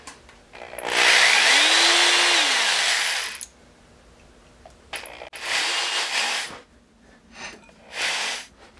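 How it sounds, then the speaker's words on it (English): Loud bursts of a power drill whirring and grinding as it drills holes in a part for a 100-year-old tower clock, one long run then several shorter ones separated by quiet pauses, close by. "I can drill right through those holes"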